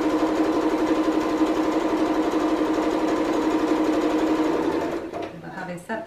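A sewing machine stitching a jacket with interfacing runs in a fast, steady, even whirr for about five seconds, then slows and stops, with a voice talking quietly underneath.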